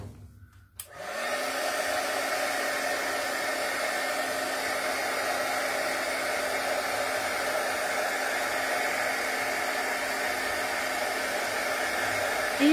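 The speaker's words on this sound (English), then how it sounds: "I'm going to dry and make this makes a little bit of noise." A heat tool runs steadily and loudly after a click on, drying freshly inked paper craft leaves, a constant whooshing blower hiss that continues unbroken for the whole stretch with no talking.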